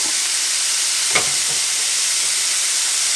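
Barbecue pork chops sizzle on a grill just after being flipped, a constant loud, close hiss with a single brief tap partway through and no talking.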